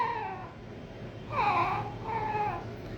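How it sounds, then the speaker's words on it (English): A Brazilian cuica friction drum gives short, squeaky, whining moans, two quiet cry-like bursts over faint room noise, sounding somewhat like a meowing cat. "it's a Brazilian instrument called Qtips, and it's creating this funny sound"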